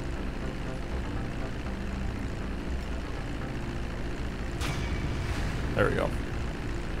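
Steady low drone of an airplane engine in Grand Theft Auto V, holding an even level throughout, with a brief whoosh and chirp near the end and a player speaking briefly over it.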